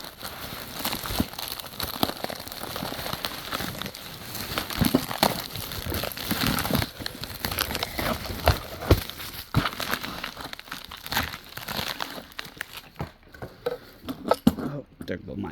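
A paper envelope of foreign coins is handled, crinkled and torn open, giving close, irregular papery rustles and crackles with occasional light metallic clinks of loose coins throughout.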